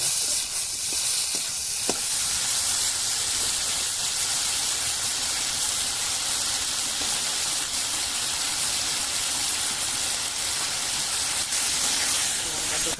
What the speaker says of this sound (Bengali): দিয়েছি তেলের পেঁয়াজ দিয়েছি টমেটো দিয়েছি আদা রসুন বাটা দিয়েছি